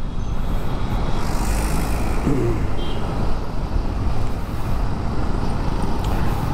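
Dense, steady roar of heavy Friday traffic on a road near Eastwood and Katipunan in Metro Manila, with cars, trucks and buses rumbling continuously and close by, with a brief squeal partway through.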